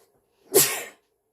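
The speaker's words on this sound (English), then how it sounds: "I'm going to sneeze" A single sharp sneeze bursts out close and loud in a quiet room, then trails off quickly.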